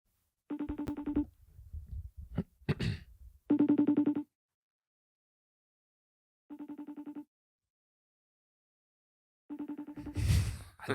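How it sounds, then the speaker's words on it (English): A phone ringing in four evenly spaced electronic bursts with pauses between, plus breathy sighs and rustling noises nearby, recorded in a podcast studio. "I love that ringing noise."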